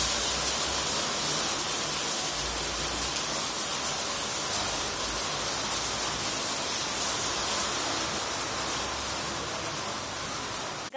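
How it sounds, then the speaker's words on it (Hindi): Heavy rain pours down outdoors during a sudden downpour in India, a dense, even hiss of falling water that holds steady and close throughout. "अचानक से बारिश होने लग गई है।"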